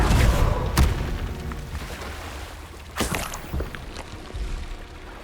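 The Confringo spell is cast in Hogwarts Legacy, giving a couple of sharp booming impacts amid rumbling combat noise, with smaller thuds in between.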